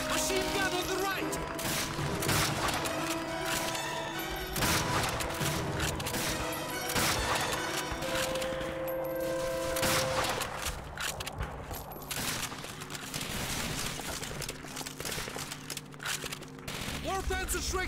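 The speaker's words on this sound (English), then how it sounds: "Machine gun on the right." Sustained machine gun fire in the World War II shooter Call of Duty: Finest Hour, Eastern Front factory defense, dense bursts and explosions amid battle noise with shouted voices throughout.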